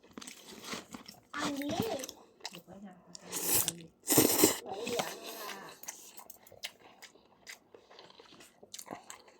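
Crunchy bites and wet chewing of fresh shrimp in a spicy Thai salmon salad, close and loud, mixed with murmured voices and a few pauses between mouthfuls.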